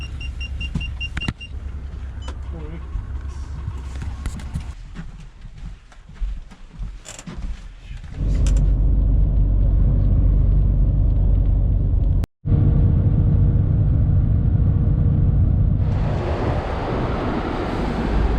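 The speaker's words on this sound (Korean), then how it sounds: "버스를 탔네 바로." Steady low engine rumble and road noise inside a moving bus, loud and continuous with a deep drone that thickens midway, a brief dropout near the end.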